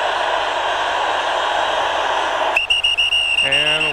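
A referee's whistle blows in an American football game, the 2001 AFC Championship between the Patriots and Steelers, sounding a shrill steady tone through loud stadium crowd roar and broadcast noise.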